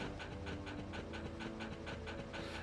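Video game dogs pant steadily and rapidly in quick rhythmic breaths, close and fairly loud over a low droning game soundscape, with no talk.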